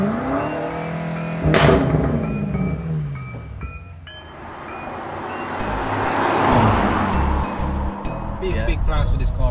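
A stock BMW F90 M5 accelerates, its engine note rising and swelling through the middle of the clip over road noise, with a sharp click near the start and people talking inside the car.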